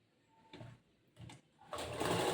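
A sewing machine stitching cloth for a cross-cut blouse back panel: two short whirring bursts with pauses, then a loud, continuous run of rapid stitching.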